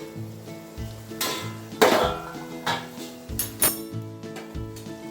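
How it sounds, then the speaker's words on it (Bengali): A lid comes off a cooking pot of thod chapor ghonto, with metallic clanks and clinks among louder knocks and a bright scrape, over a low tonal hum and faint sizzling. "এবার ঢাকাটা খুলে দেখি কি অবস্থায় আসলো"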